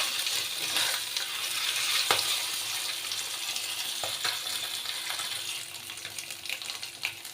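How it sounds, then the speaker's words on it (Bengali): Fish pieces fry in hot oil in a pan, a continuous close sizzle broken by occasional sharp clinks of a utensil against the pan. "একটু লাল করে ভেজে নেব।"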